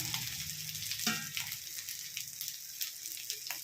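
Marinated fish, rubbed with salt and a ground paste of pepper, turmeric, garlic, curry leaves and ginger, fries in a pan with a steady, close hiss of bubbling oil and occasional louder pops and crackles.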